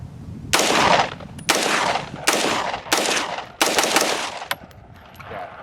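Rifle fire from 300 Blackout and 5.56 guns outdoors at Four Peaks, Arizona: five sharp, loud shots spaced about a second apart, each trailing off into a brief echo, with no talk.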